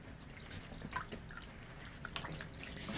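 Water drips and trickles faintly while a small kitten with lice is bathed in lukewarm water mixed with Dawn dish soap, soft scattered drops over a quiet, hissy background.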